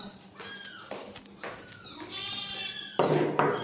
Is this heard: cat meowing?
yes